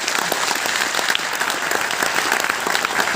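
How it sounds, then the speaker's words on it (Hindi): A classroom audience of students claps vigorously, a steady crackling burst of many hands at moderate distance that continues throughout without talk. "एक बार जोरदार तालियां बजाई दीजिए"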